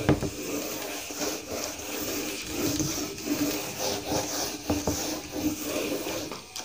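Steady scrubbing and rubbing of writing being erased from a board during a maths class, a continuous close rasping texture with no speech over it.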